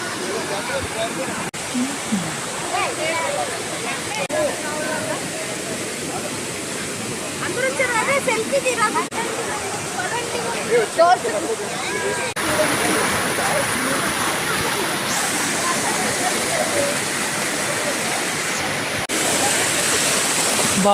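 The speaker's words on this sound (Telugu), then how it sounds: "వాటర్ ఫాల్ ఎంత ఫోర్స్ ఉందో" Steady, powerful roar of a waterfall fills the whole stretch, loud and close, with faint voices briefly under the rushing water.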